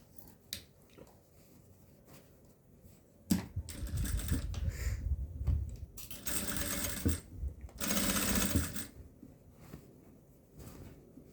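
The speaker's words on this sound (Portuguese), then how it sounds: "E agora nós vamos passar uma costura de fora a fora aqui." A sewing machine stitches a seam across a fabric bread basket in several loud, rapid whirring bursts, separated by quieter handling clicks nearby.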